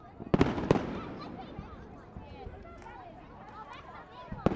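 Firework explosions on a night outing: two sharp bangs close together early, a scattering of softer pops and crackles, then another bang at the end, with faint distant crowd chatter underneath.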